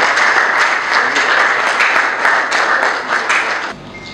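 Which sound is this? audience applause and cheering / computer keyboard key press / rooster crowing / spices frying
audience applause and cheering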